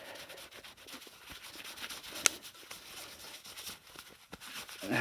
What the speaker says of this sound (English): all I'm going to do is rub the wax on the bag